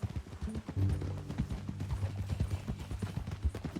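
Horse hooves clip-clop in a steady, close rhythm in the Red Dead Redemption 2 video game, with low tonal music underneath and no talking.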